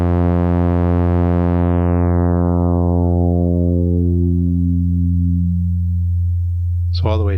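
An additive synth tone from the Arturia Pigments harmonic engine: a steady buzzing stack of harmonics whose upper partials fade away one by one, leaving a smoother, duller drone before a brief sweeping burst at the end.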